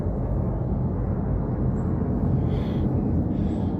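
A military aircraft overhead, heard as a steady low rumbling roar that holds without letting up.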